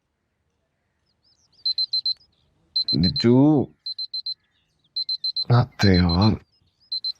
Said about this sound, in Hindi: अलार्म बज रहे, तेरा उठ जा।